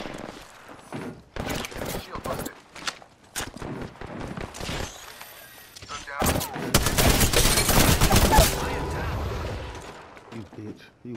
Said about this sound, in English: Opening fire. Broken enemy shield.